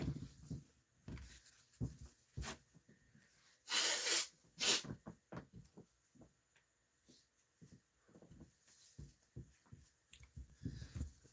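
Two sharp bursts of nose blowing near the middle, surrounded by quieter sniffs, rustles and small handling noises, close to the microphone.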